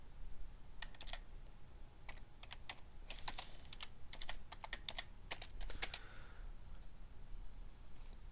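Typing on a computer keyboard during an Excel spreadsheet calculation, quick bursts of soft, close key clicks with short pauses between runs, no voices.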